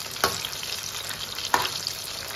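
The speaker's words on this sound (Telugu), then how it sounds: "హైలోనే పెట్టి ఫ్రై చేసుకున్నాం." Restaurant-style chicken 65 pieces fry in oil on high heat, giving a steady close sizzle with two sharp stirring knocks against the pan.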